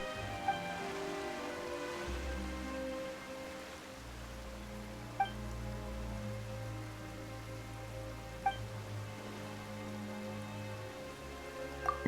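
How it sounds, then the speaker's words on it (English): Sudden rain falls in a Genshin Impact cutscene, a steady soft patter of drops on surfaces beneath low sustained music with a few faint chime accents, no voices. "Why is it raining all of a sudden?"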